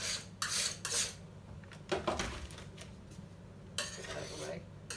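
Metal utensil scraping mince pie mixture off a baking tray in a kitchen, a series of short, close rasping strokes with small clinks between them.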